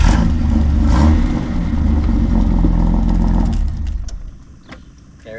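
A Datsun 240Z that sat wrecked for 30 years cranks and fires, its engine loud and close with a sustained rough roar and revving that fades toward the end.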